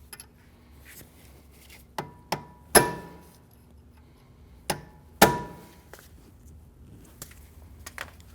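Several sharp metallic hammer strikes on a punch, staking the axle nut of a rear CV axle on a 2012-2016 Honda CR-V, arriving as irregular single and paired blows, close and fairly loud over a quiet background.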